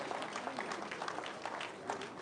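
Audience applause at a political party dinner for aspirants, a steady wash of many hands clapping at moderate distance, sustained and even throughout without a clear peak, with faint crowd noise mixed in.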